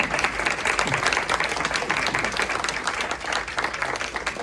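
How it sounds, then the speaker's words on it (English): Audience applause for three candidates at a Republican candidate forum, a steady dense wash of clapping lasting the whole stretch, with a faint voice or two under it. "now it's your time to applaud these three candidates"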